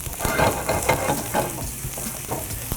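Vegetables sweat in a heavy-gauge cast iron pan, giving a steady close sizzle broken by repeated scraping stirs.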